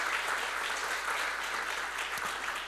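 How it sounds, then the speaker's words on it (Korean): Applause from a church congregation for their children at an early-morning service, a dense continuous patter of clapping that stays even throughout, moderately distant and with no voices over it. "크게 박수로 격려해 주세요"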